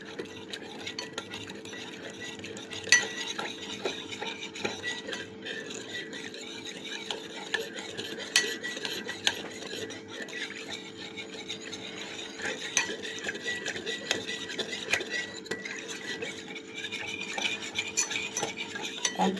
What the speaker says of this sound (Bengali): কর্নফ্লাওয়ারটাকে আমি গুলে নেব।